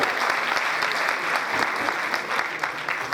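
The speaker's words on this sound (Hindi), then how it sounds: "एक बार जोरदार तालियां होनी चाहिए हमारे सिल्वर डायरेक्टर्स के लिए।" A crowd applauding steadily for several seconds at a Vestige company event, dense clapping from many hands at moderate distance, with no speech over it.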